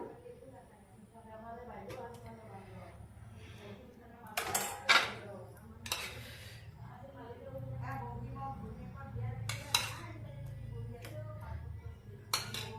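Milk being stirred in a metal pot while it curdles for homemade paneer, with scattered clinks and scrapes of a spoon against the pan under ongoing talk.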